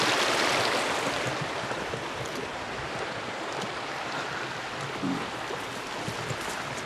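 Water flows through a forest creek that was dry a few days earlier, a steady broadband rush with a faint airy hiss, continuous and fairly close throughout with no talking.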